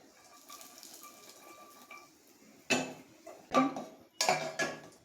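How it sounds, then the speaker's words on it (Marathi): Almonds and cashews roasting in ghee, stirred in a pan: soft clinks early on, then a few loud metallic scrapes and knocks of a spoon against the pan, close and bursty, without speech. "ड्रायफ्रूट थोडेसे भाजून घेणार आहोत तुपामध्ये"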